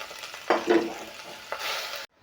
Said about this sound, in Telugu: పచ్చివాసన పోయేంత వరకు ఇలా వేయించుకోవాలి